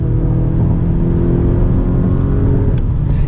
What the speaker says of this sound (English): We got a 4-cylinder turbocharged engine.